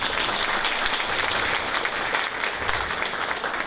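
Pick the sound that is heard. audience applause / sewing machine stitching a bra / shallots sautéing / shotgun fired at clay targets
audience applause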